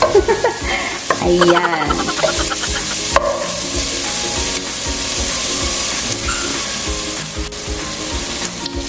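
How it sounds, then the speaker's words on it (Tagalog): Garlic, onion and ginger sauté in hot oil for chicken tinola, a loud continuous sizzle with repeated stirring scrapes of a utensil against the pan, and a brief spoken word near the start. "maayos na yung pagkakagisa ng ating bawang sibuyas at luya"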